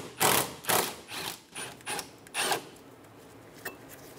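A socket wrench with a 12 mm socket ratchets out the bolt holding the e-brake bracket on a 2003-2007 Honda Accord, producing five or six close, rhythmic clicking strokes that fade into quieter fiddling.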